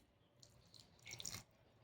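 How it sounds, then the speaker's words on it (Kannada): A little water is poured onto jaggery in a cooking vessel, making a faint, brief trickle and a few soft drips in a quiet kitchen. "ಸ್ವಲ್ಪ ನೀರು ಹಾಕ್ಕೊಳ್ಳೋಣ."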